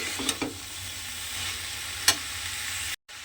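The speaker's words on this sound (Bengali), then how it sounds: "এবারে বাঁধাকপিটা খুব ভালোভাবে মশলার সঙ্গে মিশিয়ে নেব" Cabbage tossed with spice masala in a pan gives a steady sizzling scrape, broken by a few sharp spatula clicks near the start and middle. A brief silent dropout comes near the end.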